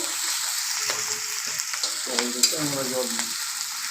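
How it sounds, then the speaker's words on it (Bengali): Chicken and capsicum sauté in a hot pan with salt for chilli chicken, giving a loud, continuous sizzle broken by a few close scraping stirs of a spatula. "একটু কষে নিতে হবে পরিমাণ মতো লবণ এইভাবে পাঁচ মিনিট আমাকে কষে নিতে হ্যাঁ। হবে"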